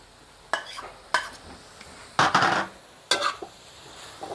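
Ginger is stir-fried with sun-dried pork and spring onion in a pan. Four or five sharp scraping stirs come at irregular intervals over a soft, steady sizzle, with no voices.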